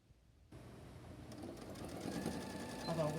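Sewing machine stitching a pillowcase seam, back stitching at the start and end, running steadily after a quiet opening and building slightly louder and busier toward the close; close by, with no talk.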